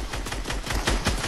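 Rapid bursts of gunfire in the video game Fortnite, a dense run of sharp, loud shots close together filling the whole stretch.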